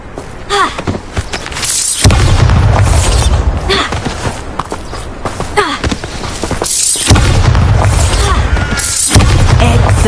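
Bombarda blasting spell in a Harry Potter video game sets off heavy booming explosions, one near two seconds and another around seven, with deep rumbling bursts and crackling debris over a dense game soundscape.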